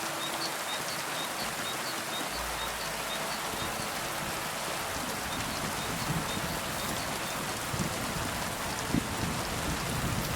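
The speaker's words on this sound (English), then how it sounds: "This rain is coming down." Steady, dense rain in the video game Kingdom Come: Deliverance 2 pours down without a break, a loud hiss of drops on surfaces filling the whole stretch.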